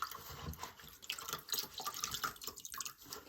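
A grouting sponge dipped and sloshed in a bowl of water while cleaning small mosaics, with continuous close splashing, dripping and wringing sounds and no talk.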